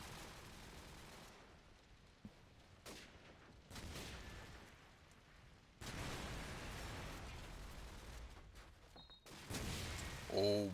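Call of Duty 4 match at a LAN event with grenade blasts and bursts of gunfire, loud broadband bangs and rattling fire in irregular surges, under a caster's voice.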